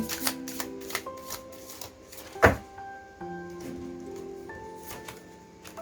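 Tarot cards are shuffled by hand, producing quick papery flutters and riffles with a sharp snap midway, layered over soft sustained background music.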